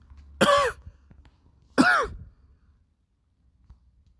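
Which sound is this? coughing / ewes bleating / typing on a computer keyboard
coughing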